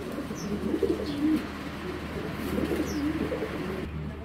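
Pigeons cooing in a loft, a pair kept for sale with the hen sitting in a bucket; soft repeated coos in two bursts over steady low background hum, close by.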